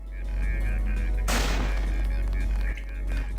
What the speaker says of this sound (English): Why do I hear some explosions?